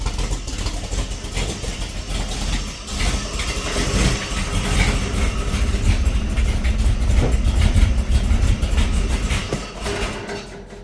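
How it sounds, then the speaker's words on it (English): Ford Falcon XB GS engine idling while running rich with an odd mechanical noise, a loud rough rumble that builds slightly and stays steady throughout, with no talking. "There is a bit of a noise coming from the motor."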